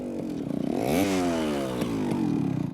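A motorcycle ridden close by gives a loud engine drone whose pitch climbs as it revs and then slides down in a long sweep, like a pass-by, before steadying again with a throbbing idle.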